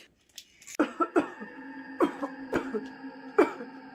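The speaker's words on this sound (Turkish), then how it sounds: "Ben de öksürük sesi duydum" Several separate coughs, close and fairly loud, spread unevenly over a few seconds with quiet gaps between them.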